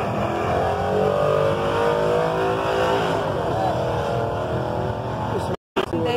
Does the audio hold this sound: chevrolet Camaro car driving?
yes